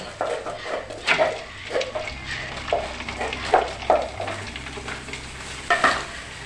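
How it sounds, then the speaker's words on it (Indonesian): Krupuk crackers fry in hot oil while food is cooked for a village wedding feast in Banyumas, giving a steady bubbling sizzle broken by repeated scrapes and clinks of a stirring utensil against the pan. "Goreng kerupuk. Kerupuk pina."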